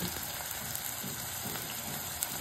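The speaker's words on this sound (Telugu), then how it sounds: "తర్వాత మనం సన్నగా తరిగి పెట్టుకుని ఉల్లిపాయ ముక్కలు కొంచెం వేసి వేయించాలి." Thinly sliced onion pieces fry in a pan with a steady, even sizzle and a few faint crackles and pops, continuous and fairly quiet, with no talk.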